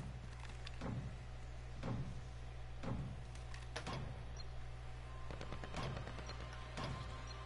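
Gunfire in Call of Duty Modern Warfare comes as a regular series of about seven sharp, moderately distant shots roughly one second apart, over a steady low game ambience with no talk.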